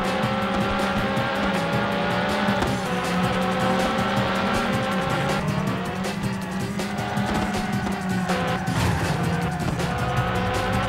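Race car engine revving and downshifting under hard braking in a Le Mans 24 Hours racing game on PS1, GT2 class, with tire squeal and a steady loud engine drone throughout.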